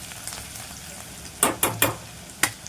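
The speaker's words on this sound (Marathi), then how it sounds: "हे बघा लसूण आपण ही मध्यम गॅसवरती अशी परतून घ्यायची आहे तेलामध्ये" Crushed garlic frying in oil over medium heat, a soft steady sizzle broken by several sharp close stirring scrapes in the second half.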